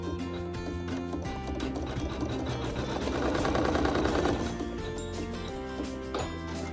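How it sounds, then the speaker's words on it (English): A sewing machine runs steadily, stitching a tack-down on a piece of fabric, with a fast even mechanical whir and clatter that swells slightly in the middle and carries on alone, close by. "the machine will sew a tack down to hold it in place."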